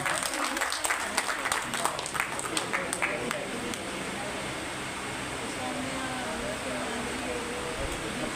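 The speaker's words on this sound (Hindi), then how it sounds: "एक बार इनका स्वागत करिए जोरदार तालियों के साथ" Sustained applause from an audience at a Sindhi community gathering in Delhi marking a Partition remembrance day, steady and fairly dense throughout, with a few voices faintly audible underneath.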